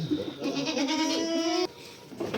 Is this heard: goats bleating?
yes